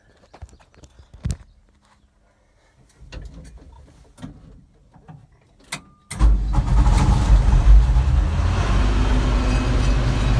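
A Gleaner M2 combine engine starts: a few faint clicks and handling noises, then it cranks briefly and fires into a loud, steady running rumble close by.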